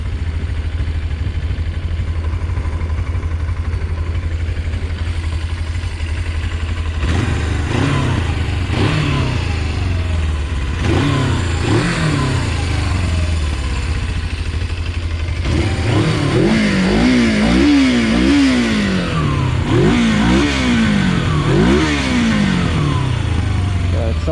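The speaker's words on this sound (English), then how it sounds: "you have to rev it a little bit to get the RPM gauge going" An old Suzuki GS 500 motorcycle, a barn find, idles steadily and is then revved in repeated rising and falling bursts that grow more frequent toward the end, close by, with some faint talk.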